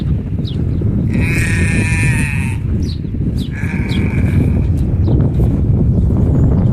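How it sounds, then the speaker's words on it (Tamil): Goats at a farm near Ras Al Khaimah, UAE, give several loud, close bleats in quick succession, heard over a constant rush of wind or background noise; no talk. "இங்கே ஒரு ஆட்டு பண்ணை இருக்குது."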